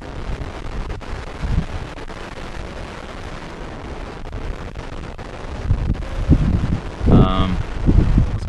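Steady gusty wind roars against the microphone outdoors at a drone flying field, a constant loud rumble with stronger buffets near the end, and a person speaking briefly.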